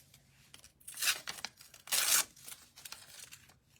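A stencil sheet being cut, heard as two louder crisp tearing, crinkling passes with a few smaller rustles between them, close and alone with no talk.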